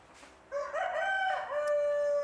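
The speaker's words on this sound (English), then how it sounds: "So with there being a lot of roosters, I imagine it's very loud in the morning." A rooster crows once, a clear drawn-out cock-a-doodle-doo, moderately near over faint background noise.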